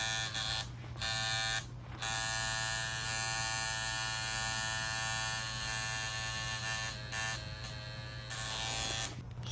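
A tattoo machine, a shader, buzzes steadily while shading a portrait, a close, continuous electric drone with two brief pauses near the start and others near the end.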